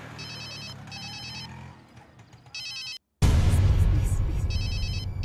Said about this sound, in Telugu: నీకు ఫోన్ వచ్చింది?